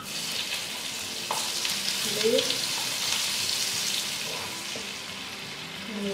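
Onions sizzle steadily in hot butter, a bright continuous crackle with a few soft clinks of a utensil in the pan.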